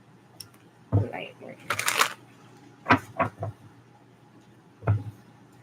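A few brisk riffling bursts of cards being shuffled, close by, separated by short pauses, with someone speaking briefly between them.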